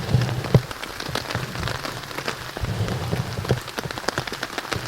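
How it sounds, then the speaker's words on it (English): Heavy rain pours down on a campsite in wind, a dense steady patter of drops striking close surfaces with occasional louder splats, no voices. "It is super windy and it is raining like crazy."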